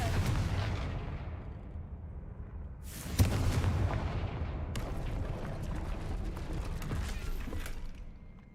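In the Hogwarts Legacy video game, Confringo blasting spells set off crackling explosions. A sharp burst near three seconds is followed by sustained fiery crackle and rumble that slowly fade, with no voices.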